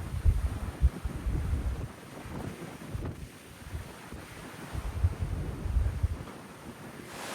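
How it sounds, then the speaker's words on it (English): Strong wind and rough ocean waves in stormy weather at sea, heard from a cruise ship, with gusty low rumbling buffeting and surges of surf that rise, ease off, then build again; no one speaks. "We're in bad weather. See, look at those waves down there."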